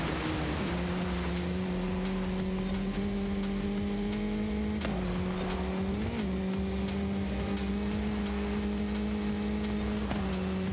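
A Forza racing car engine holds steady revs, a constant droning hum with slight pitch bumps as it sustains a fixed rev range, loud and continuous with no talk over it.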